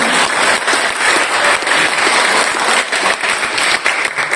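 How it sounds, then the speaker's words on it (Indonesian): Loud, sustained applause from an audience at a school practical exam on Indonesian food and cake making, a dense continuous crackle of many hands clapping close by, with no talking. "Saya minta tepuk tangannya untuk"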